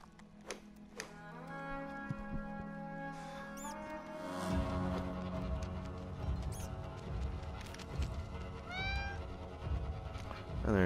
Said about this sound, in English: And there's just kitties everywhere,